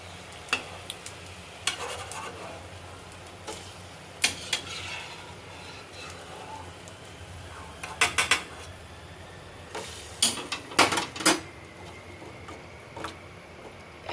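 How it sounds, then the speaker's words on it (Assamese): Freshly fried jalebi dropped into sugar syrup gives scattered soft splashes and clinks of utensil against pan, with a low background hum and a few louder clusters of clatter. "এয়া চাটনিত দি দিছোঁ"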